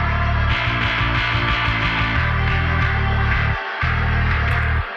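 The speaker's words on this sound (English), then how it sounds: "I'm processing it with this tape echo." Electric guitar lead run through a tape echo delay for a gritty analog character, in a modern metalcore production; steady dense playing with repeating note patterns and a short dip near the end.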